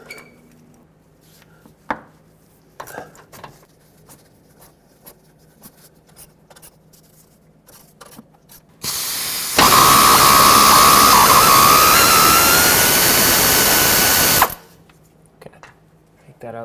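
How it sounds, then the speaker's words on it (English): A 10mm socket works a bolt free on a Ford F-150, with scattered light clicks and taps, then a loud, steady power-tool whir lasting about five seconds before cutting off. "Grab your 10mm socket, and let's break this bolt free."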